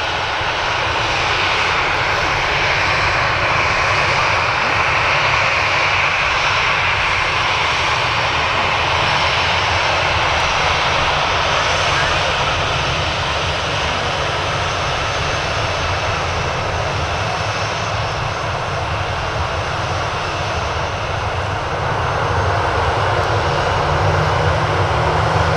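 A Jet2 Boeing 737-800 jet airliner taxis at Manchester Airport, a loud continuous engine roar and whine holding steady for the whole stretch, no talking over it.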